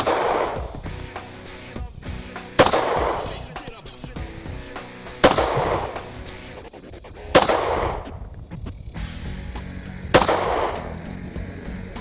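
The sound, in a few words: gunshots from a handgun at a shooting range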